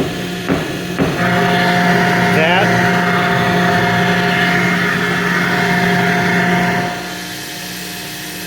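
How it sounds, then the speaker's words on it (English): A 1917 TUEC central vacuum cleaner runs steadily with a slight exhaust note over its motor hum, starting after a couple of clicks near the start and dropping to a lower level toward the end, with someone talking over it. "That little bit of an exhaust note that you hear would have disappeared"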